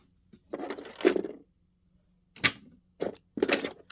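A sewing machine stitches fabric leaves onto a quilted wall hanging in short, quiet bursts of whirring, four separate runs with brief pauses between them.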